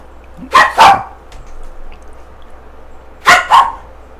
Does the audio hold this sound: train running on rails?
no